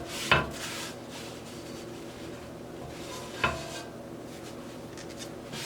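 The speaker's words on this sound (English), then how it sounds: "now I'm just going to go ahead and wipe this pan off really quick" Frying pan being wiped out to clear leftover egg: two brief scraping strokes a few seconds apart, quiet and close, with faint background hiss between them.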